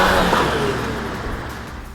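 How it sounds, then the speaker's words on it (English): A CUPRA Leon Sportstourer pulls away hard under launch control, its engine roaring loud and close at first, then easing steadily as the car recedes, with a broad rushing tone and no voices. "When launch control is activated, the vehicle's onboard computer will assist the driver to accelerate with maximum traction and power."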